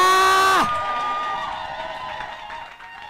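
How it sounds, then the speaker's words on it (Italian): An audience at a European poetry slam championship in Rome applauds and cheers poet Martina Lauretta, a loud burst at first that quickly settles into softer scattered clapping and crowd noise. "Me lo fate un altro applauso, Martina Lauretta!"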